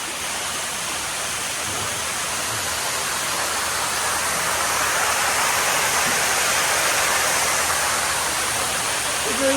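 A toilet at a family dairy farm flushes with a loud, steady rush of water that runs continuously and close by, with no talking heard.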